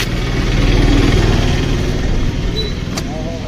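A Kawasaki ZX10R motorcycle idles close by with a steady, rumbling engine note that runs throughout, under some background voices and clatter.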